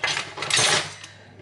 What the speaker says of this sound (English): we're going to be mixing it thoroughly